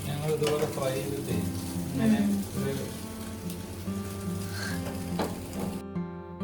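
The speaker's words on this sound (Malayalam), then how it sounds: "ഞങ്ങൾ ആ സോസേജ് അങ്ങനെ ജസ്റ്റ് വറുത്തെടുക്കും" Sausages fry in a pan with a steady, moderate sizzle and occasional stirring, mixed with background tones and other household sounds.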